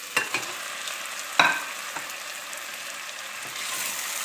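Pork ribs and lean meat browning in a pan with softened carrot, a soft steady sizzle broken by a few sharp clinks and stirring knocks, close and without talk.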